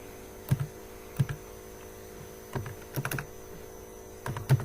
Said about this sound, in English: Let's type